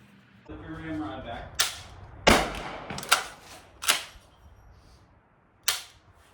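Kel Tec KSG shotgun fired at a range: five sharp, loud reports spread irregularly over several seconds, with a brief voice speaking at the start and outdoor background noise between shots.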